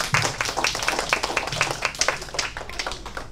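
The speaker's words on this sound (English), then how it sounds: "let's give them a warm round of applause to encourage them for their courage and effort" Audience clapping at a piano recital, a steady patter of many hands that carries on for a few seconds, close and moderately loud.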